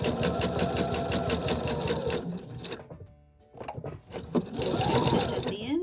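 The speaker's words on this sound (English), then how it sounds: "a straight stitch, do a fixed stitch or a back stitch and sew all the way across." A sewing machine runs a straight-stitch seam with a half-inch allowance on a stuffed toy, a rapid mechanical chatter that stops for about a second midway and then resumes, close and steady.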